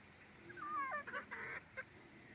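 Hens cluck softly nearby, a short run of clucks and throaty calls over faint background noise.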